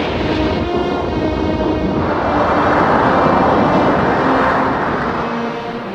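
Rocket engine ignition at launch, as a film sound effect: a loud, continuous roaring rumble that swells in intensity, holds as a dense wall of noise, then eases slightly toward the end.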